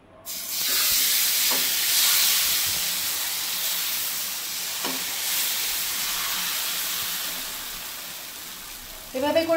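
Thin, watery dosa batter sizzling loudly on a hot oiled pan as it is spread all around, a steady broad hiss that slowly eases, with a few soft scraping touches and a brief clatter at the end.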